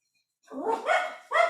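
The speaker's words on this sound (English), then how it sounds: "That only sounded like one dog." A single dog gives a short burst of barks, two quick yelping barks followed by a third after a brief pause, fairly close and alone after a moment of silence.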